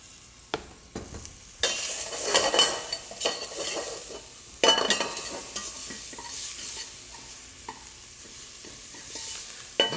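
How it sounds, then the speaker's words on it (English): Shallots sizzling in a braising pan, a bright crackling fry that swells when stirred. Scraping utensil strokes and clinks break in now and then over a steady hiss, with no talk. "So shallots going first."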